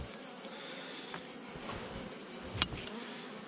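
A gentle honeybee colony or swarm hums as a faint, steady insect buzz throughout, with one brief sharp click partway through and no talking.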